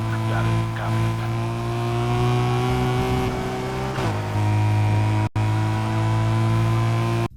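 A sports car engine revs in Need for Speed Heat with an Underground 2 sound mod, giving a loud, droning tone with rising and falling pitch, a shift-like drop partway through and two abrupt cutouts.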